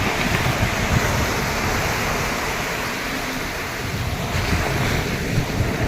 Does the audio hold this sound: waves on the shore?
yes